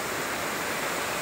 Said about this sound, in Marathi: एवढे सगळे धबधबे आहेत आपल्या पुढं.